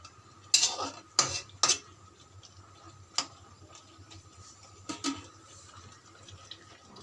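Fried okra added to a yogurt gravy and stirred, with a few sharp clinks of a spoon against the pan over a faint background simmer, then a pause and two more knocks.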